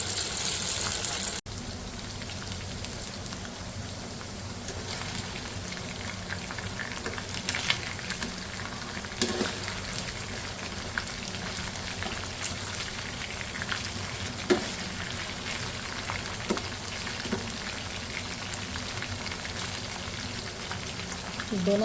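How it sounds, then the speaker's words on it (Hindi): Chicken pieces fry in hot oil for chilli chicken, a steady close crackling sizzle with scattered pops throughout, with occasional quiet talk. "चिकन हो गया सारा फ्राई"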